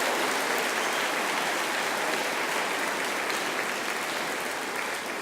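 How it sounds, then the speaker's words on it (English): Audience applause at a school honors ceremony recognizing students, a loud, dense, unbroken roar of clapping from a large crowd that holds steady and eases slightly at the end. "you may recognize the accomplishment of these students with your applause"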